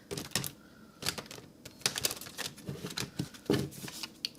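Tarot cards are shuffled by hand in a standard shuffle, producing a quick run of sharp, papery riffles and taps with uneven rhythm, close and fairly quiet, with no talking.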